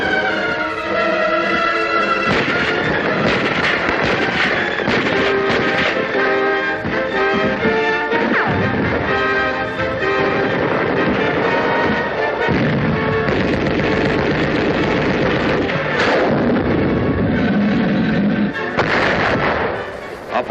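Rifle, machine gun and artillery fire from a jungle battle in a 1943 US Army film, a loud dense barrage of bursts and booms that goes on throughout with an old recording tone.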